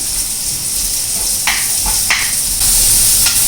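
Onions frying in butter in a pan, a loud continuous sizzle up close with occasional scraping stirs cutting through the hiss.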